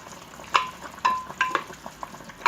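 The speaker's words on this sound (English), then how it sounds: "This pot, you can see is boiling." A pot of Nigerian okra soup with spinach boiling over an open fire, giving off sharp, sporadic pops and bubbling sputters spaced irregularly over a low, quiet simmer.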